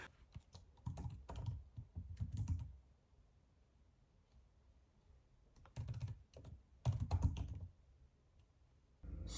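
Notes being typed on a computer keyboard, close and quiet, with bursts of rapid key clicks separated by pauses and no talking.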